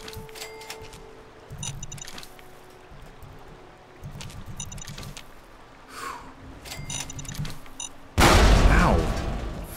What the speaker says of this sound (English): You didn't see the big explosion that just happened, kid?